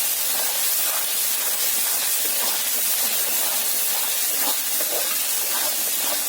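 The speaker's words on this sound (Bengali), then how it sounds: "ভালো করে মশলাটা ভেজে নেব" A loud, continuous sizzle of spice paste with turmeric and salt frying in a hot pan for prawn malai curry, an even hiss throughout with no talking.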